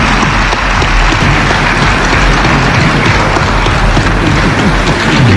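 A large national conference assembly in Chad breaks into dense, sustained applause to adopt its rules by acclamation, a loud, even wash of clapping from many hands that fills the hall without pause.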